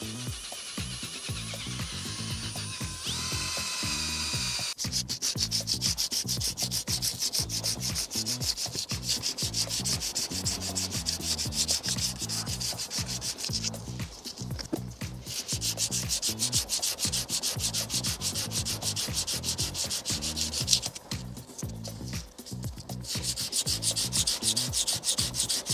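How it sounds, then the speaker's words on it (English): Steady hand sanding of Land Rover Defender brake calipers with 240-grit paper, a continuous rhythmic scratchy rubbing that stays close and loud throughout with no talking. "So I'm just sanding them down,"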